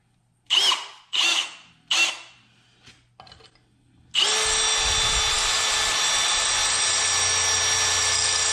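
A power drill gives three short bursts and a few sputters, then runs continuously at a steady high whine, close by.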